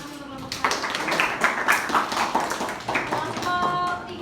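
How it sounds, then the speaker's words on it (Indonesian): Students at a vocational school theatre session clap for the first group, a scattered, uneven burst of hand claps close by with voices mixed in, fading out toward the end. "Ya, tepuk tangan untuk kelompok 1."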